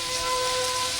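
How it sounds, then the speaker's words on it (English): Steady broadband hiss of a heavy rainstorm pouring outside, continuous and loud across the whole second with a faint tonal whine running beneath, no voices. "Sorry to ask you out in this raging rainstorm."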